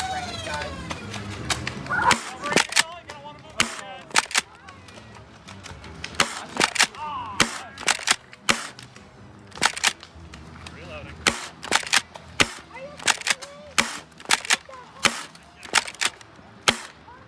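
Nerf blasters fire foam darts at a Nerf battle event, producing sharp repeated snapping pops, many in quick irregular bursts, some near and loud, others fainter, with voices heard between shots.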